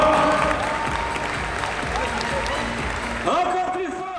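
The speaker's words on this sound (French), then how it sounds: "Et pour les autres, on les applaudit bien fort" Applause from a crowd, clapping steadily under a voice speaking over it, with a brief swell near the end.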